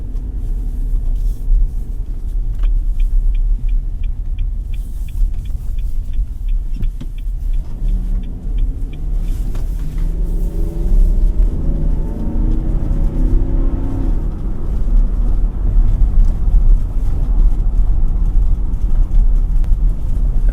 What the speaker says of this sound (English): V8 rumble is just something.